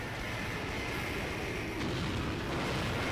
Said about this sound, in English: pressing the one button, you can launch a missile strike, or bomb is what they call it